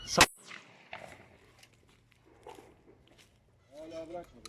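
A firecracker goes off once at close range to scare off a hawk attacking pigeons, a sharp loud bang followed by quieter rustling, with voices speaking near the end.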